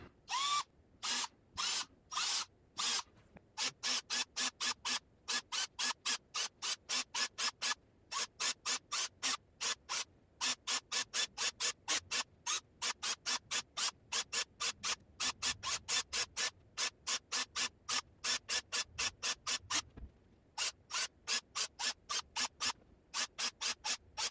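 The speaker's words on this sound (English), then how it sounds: "Keep drilling holes." A power drill whirs in many short, rapid bursts with brief pauses between them, steady and close, with a faint grinding scrape as the bit bites into a slip-cast ceramic sphere.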